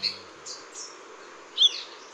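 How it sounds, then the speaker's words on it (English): A rare Santa Marta Sabrewing hummingbird gives a few thin, high chirps over a steady background hiss, with the sharpest note near the end. "The Santa Marta Sabrewing is a hummingbird species so rare, they've only been documented twice in recent years."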